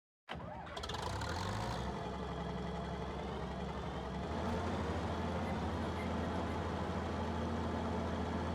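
Old combine harvester in Farming Simulator 22 starting up and settling into a steady, loud engine drone with low rumbling harmonics, running continuously without talk.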